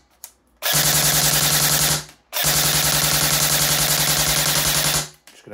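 A Double Eagle M924 toy pistol fires two long, rapid automatic bursts until the magazine empties, loud and close, with a short pause between them and a brief start of a third at the end.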